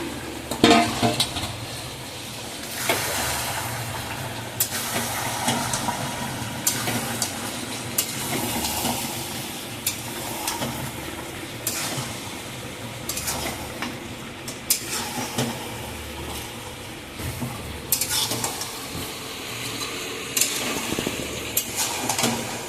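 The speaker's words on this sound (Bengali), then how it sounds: "মটনটা কষা হচ্ছে, ভালো করে একটু কষিয়ে নিয়ে তারপরে আমার একটু কষিয়ে আমি গরম জল দিয়ে দেবো।" Mutton pieces sautéed and stirred in a pan for a Bengali goat curry, with a steady soft sizzle broken by frequent scraping spoon strokes and clinks against the pan, close and fairly loud throughout.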